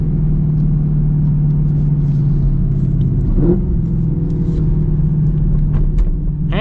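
A modified Chevrolet Camaro SS V8 engine in sport mode roars with a deep, steady rumble, its pitch climbing as it revs and accelerates, heard close from inside the car.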